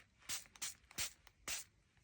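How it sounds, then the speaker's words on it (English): Ink mixed with water is spritzed from a spray bottle onto paper tags, giving four or five short, breathy hisses in an uneven rhythm, close and fairly quiet with no talking. "I'm going to pop that into here, and I'm just going to get my spray"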